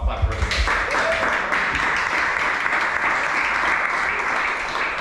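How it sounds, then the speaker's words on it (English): Sustained applause from a party crowd at a fall kickoff event, a steady wash of many hands clapping at a fairly even level for the whole stretch, with some voices mixed in underneath. "golf clap for everybody"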